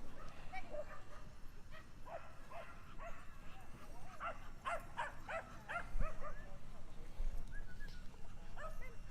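A female dog named Easy lets out a run of high yips, whimpers and short barks, rising into a quick cluster midway, while faint speech sits underneath.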